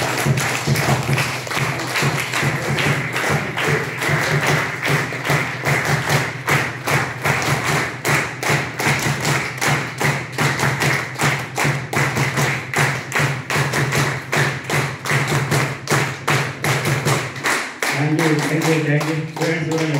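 An audience at a business meeting claps together in a fast, steady, loud rhythm of sharp thuds for the whole stretch, with a voice breaking in near the end.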